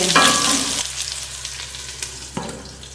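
Pork ribs with zucchini cook in a pan over medium-low heat, giving a close, steady sizzle with a few sharp stirring clicks. The sizzle fades a little toward the end.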